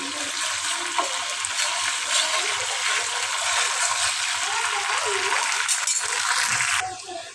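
Vegetables for bhaji sizzle and hiss steadily in a frying pan as they are stirred, a close, continuous crackle that stops abruptly near the end.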